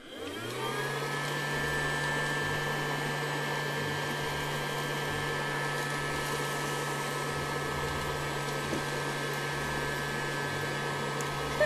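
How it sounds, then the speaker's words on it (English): A Casdon toy Dyson DC22 cylinder vacuum cleaner runs steadily through its long hose while sucking up polystyrene balls, giving a continuous whining motor hum with a few faint rattles from the balls. "Let's check out all of the tools and see how it works. Okay, let's use the long hose."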